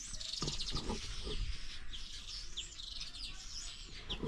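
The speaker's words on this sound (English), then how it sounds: "can you hear the birds singing?" Several birds chirp and tweet in quick bright phrases, fairly close, over a soft background hush with no talking.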